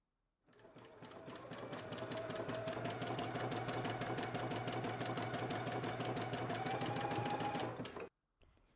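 A sewing machine stitches a narrow hem on a beginner-friendly McCalls 8253 dress, running in one steady, continuous rapid whir for about seven seconds before stopping abruptly.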